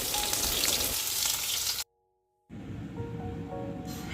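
Chicken pakora pieces frying in hot oil for chilli chicken, a steady loud sizzle that cuts out for a moment of silence and then resumes, with no voices.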